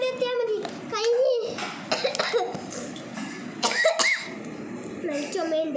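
A child coughs repeatedly in short, close bursts, mixed in with bits of child chatter and other voices in a small indoor space.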